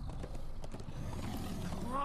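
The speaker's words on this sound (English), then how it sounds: "Come on, horses!" Horse hooves in the video game Minecraft: Story Mode clop in a quick galloping rhythm while voices talk over them.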